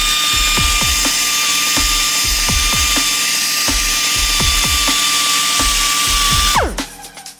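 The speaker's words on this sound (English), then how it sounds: "Let's go ahead and shave these teeth off of here, get it back down just to the 1 TDC tooth" A rotary tool grinds the teeth off a Schimmel Performance adjustable cam sprocket trigger wheel. It makes a loud, steady high whine with regular ticking bumps, then winds down at the end.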